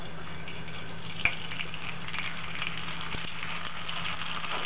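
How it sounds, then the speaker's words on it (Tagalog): Pinsec frito wontons frying in hot cooking oil in a frying pan: a continuous dense sizzle with a low steady hum beneath and one brief knock near the start. "once na mainit na yung cooking oil, ilalagay na natin dito isa-isa yung wonton"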